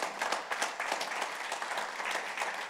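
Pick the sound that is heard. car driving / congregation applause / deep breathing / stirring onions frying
congregation applause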